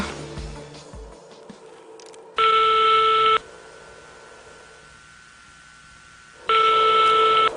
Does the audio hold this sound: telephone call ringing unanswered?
yes